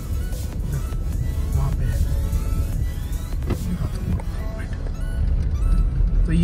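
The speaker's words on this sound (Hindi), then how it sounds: "वो जो सामने गाड़ी जा रही है ना" A car driving past on a road near the Kirti Nagar bridge, a moderately close engine and tire rumble mixed with street noise and a brief honk, while someone talks over it.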